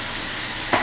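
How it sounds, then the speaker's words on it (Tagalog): Chicken tinola gets stirred in a pot, a brief close sizzle with a quick scrape of the spoon near the end. "Haluin lang natin."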